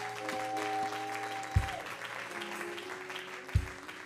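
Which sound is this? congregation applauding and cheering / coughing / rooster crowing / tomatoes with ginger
congregation applauding and cheering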